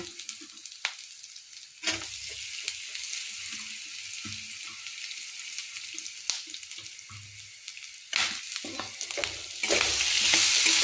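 Ridge gourd peel fries in a pan for a chutney, a steady sizzle broken by repeated stirring scrapes and a few louder bursts of hissing, with no talking.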